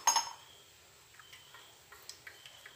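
A metal cooking pot set down on a stove with a sharp clank at the start, followed by faint scattered ticks and light clinks as it heats, in a quiet kitchen.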